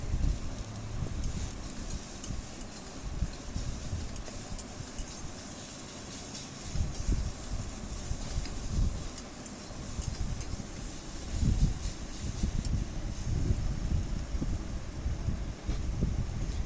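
Chopped tomatoes with salt and turmeric sizzle in a hot pan, a steady frying hiss that lasts throughout, with occasional low thumps and stirring bumps and no voices.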